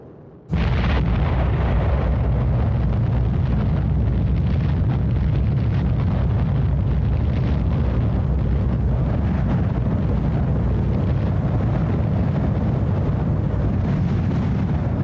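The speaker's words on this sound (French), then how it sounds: "La bombe explose à 580 mètres au-dessus de la ville, 43 secondes après avoir quitté la soute." The Little Boy atomic bomb detonates 580 metres above the city, heard as a sudden loud blast that becomes a sustained, heavy, roaring rumble filling the whole stretch without letting up.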